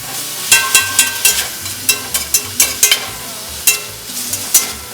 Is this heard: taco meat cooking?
yes